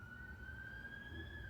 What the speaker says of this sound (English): Yep, sirens.